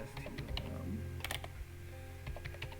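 Fingers type on a coffee-damaged computer keyboard in quick, uneven bursts of close clicking keystrokes, with a faint low hum underneath and no voices.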